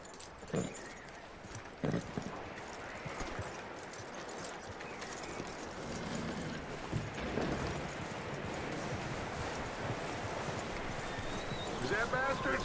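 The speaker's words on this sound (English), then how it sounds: "That looks like a decent horse." Hooves clip-clop from a horse in Red Dead Redemption 2, with uneven footfalls and ambient outdoor noise mixed beneath talking voices, plus a couple of louder thumps early on.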